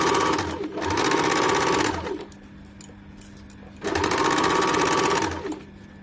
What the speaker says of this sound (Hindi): उससे पहले हम लोग दोनों साइड का सिलाई कर लेंगे